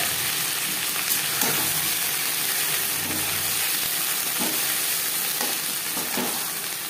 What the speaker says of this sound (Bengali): কালো জিরে লঙ্কা ভেজে নেওয়ার পর দিয়ে দেবো ঘ্যাটকোল পাতা বাটা।